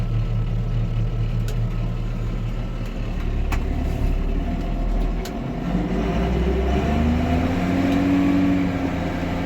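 A tractor engine runs in a muddy soybean field during harvest, its wheels slipping even without a load; a steady low diesel rumble sits close by and its pitch shifts upward near the end.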